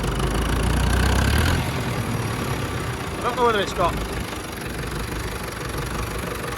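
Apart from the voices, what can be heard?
vintage David Brown Cropmaster tractor engine running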